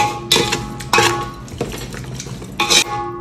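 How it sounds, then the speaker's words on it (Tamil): A vegetable biryani mixture with curd is stirred in a metal pot, the spoon scraping and clinking against the sides in a few loud bursts with quieter mixing between. "இப்போ நல்லா மிக்ஸ் பண்ணி விட்டுக்கலாம்."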